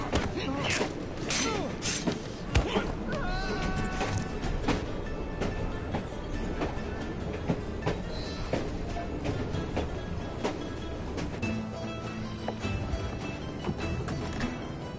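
Dense mechanical rumbling and rattling from a moving train in the video game Assassin's Creed Syndicate in Victorian London, busy and steady throughout, mixed with scattered clanks and other game sounds.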